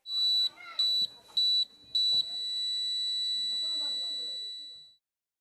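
Heat detector alarm sounding shrill high beeps, four short pulses followed by one longer sustained tone that fades out, loud and close with faint talk underneath.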